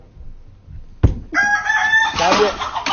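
A rooster crows loudly and close after a sharp knock, one long strained cock-a-doodle-doo that wavers and breaks up toward its end, over a quiet room before it.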